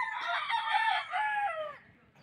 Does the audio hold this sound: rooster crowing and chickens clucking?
yes